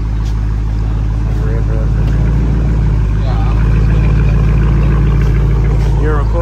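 A straight-piped Dodge Challenger R/T with a Hemi engine idles close by. Its deep, loud, steady rumble fills the scene, with voices faintly under it.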